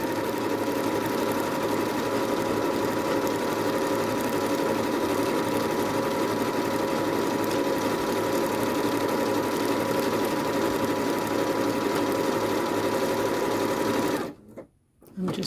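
A Janome sewing machine stitches out a decorative bridge-stitch pattern, running with a steady, loud mechanical whir and rapid needle rhythm for several seconds before briefly stopping and restarting.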